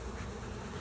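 Honeybees buzzing around a hive twenty days after installation, a dense, steady swarm drone close to the listener with no talk.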